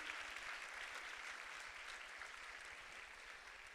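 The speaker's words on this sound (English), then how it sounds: "let's have a round of applause for the winning companies" An audience at a women-on-boards event applauds in a continuous, even wash of clapping, faint and somewhat distant, lasting a few seconds without talk over it.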